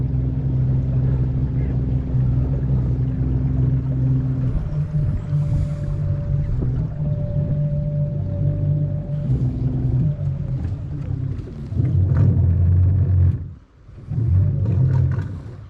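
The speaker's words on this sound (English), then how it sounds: "Speedboat, isn't it, this?" A speedboat motor hums on a lake, a steady low drone that holds through most of the stretch, swells louder near the end, briefly drops away and returns.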